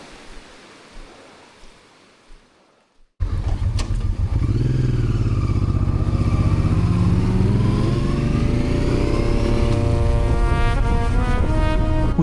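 After a few seconds of quiet, a Honda Transalp 650 motorcycle engine starts up and drones loudly and steadily as it rides offroad in the Romanian mountains, its tone rising through the revs with heavy wind rumble.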